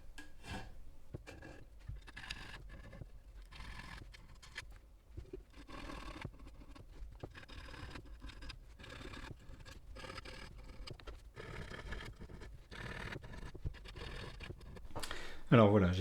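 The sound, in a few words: filing bass guitar frets with a file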